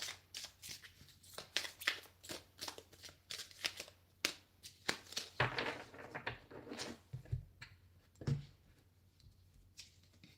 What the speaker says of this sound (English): I'm going to just give them a shuffle